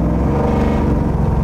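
Wildcat Defender 110 with a 600HP V8 engine accelerating, a loud, steady, close-up engine roar with strong low rumble and layered harmonics, continuous with no talking.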